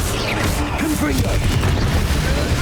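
Confringo fire-blast spell in Hogwarts Legacy on Switch, a heavy, continuous booming roar with crackling bursts and a low rumble, loud and unbroken from start to finish.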